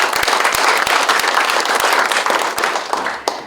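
Audience applause fills a large hall as a regional industrial complex anniversary ceremony opens, steady dense clapping from a big crowd that stays loud throughout and tapers slightly at the end.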